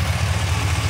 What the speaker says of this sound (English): Idling smooth.